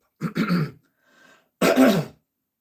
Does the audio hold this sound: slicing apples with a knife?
no